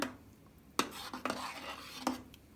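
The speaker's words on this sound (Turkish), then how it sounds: "Bakın yavaş yavaş karıştırıyorum şimdi." Homemade cheese mixture of milk, egg and çökelek stirred slowly in a pot on the stove, soft scraping broken by a few sharp spoon clinks against the metal, close and alone.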